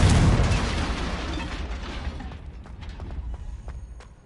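The Confringo explosive spell in a Hogwarts video game, a loud booming blast right at the start that fades over several seconds into a rumbling tail with scattered crackles and small pops.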